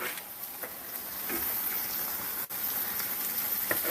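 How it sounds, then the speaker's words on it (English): Bologna slices frying in melted butter in a skillet give a steady, even sizzle and crackle close by, with no voices over it. "when you're frying bologna, I personally like to put in a little bit of butter"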